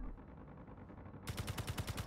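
Automatic turret fire in the Space Engineers video game, a rapid run of sharp, evenly spaced shots that bursts in loudly after a stretch of low ambient hum, with no talk over it.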